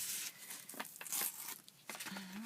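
Scrap paper is torn by hand for a layered paper collage, with several short, crisp ripping bursts at close range and no talking.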